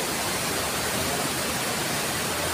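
Strong rushing water at a stone hill, a dense, steady roar that fills the whole clip at close range with no breaks and no voices.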